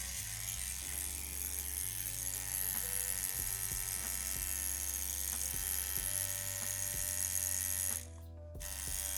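A CNC X-WE rotary tattoo machine with a needle fitted runs with a rattling mechanical buzz. The hum is steady but shifts in pitch, and it cuts out briefly near the end.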